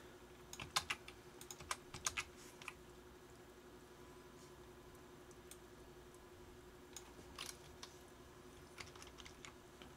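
Quiet keystrokes tap on a computer keyboard in short irregular bursts, clustered near the start and again toward the end, close and faint with no talk.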